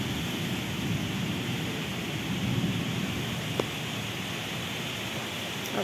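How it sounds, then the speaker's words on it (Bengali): A Kalbaishakhi nor'wester storm batters trees before the rain begins, a loud, steady roar of wind with one brief sharp knock partway through and no voices. "দেখুন কি পরিমাণে ঝড়, গাছ দেখলে বোঝা যায়।"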